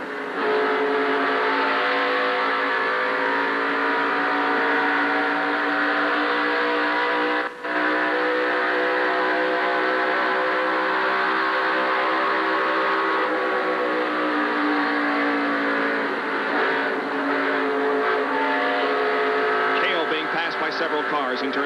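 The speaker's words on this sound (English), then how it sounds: "Davey Allison passes Cale Yarborough on the high side of the racetrack." NASCAR Cup race cars roar at speed around the Michigan oval in 1988, a dense, continuous engine drone with shifting pitches as cars pass on the high side, heard steadily throughout under a commentator's voice.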